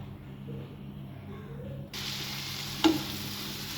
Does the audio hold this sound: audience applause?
no